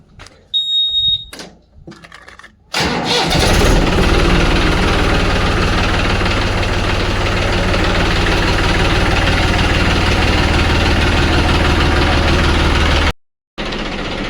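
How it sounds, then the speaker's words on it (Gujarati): A few high electronic beeps, then a tractor engine starts with a sudden loud rumble and settles into a steady, close idle before briefly cutting out. "તો ટ્રેક્ટરને સલું કરી લઈએ"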